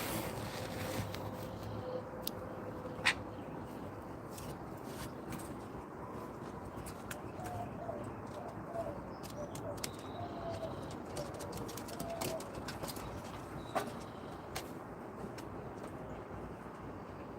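Pet pigeons or doves cooing softly in a quiet indoor setting, low repeated coos under a faint steady background hum with a few scattered clicks.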